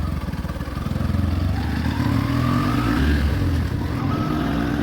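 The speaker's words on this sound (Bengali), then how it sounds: "আমি বাইক নিয়ে রওনা হলাম" A motorcycle carrying two riders on the road hums steadily throughout, its engine a continuous low drone under wind rush, with no talk.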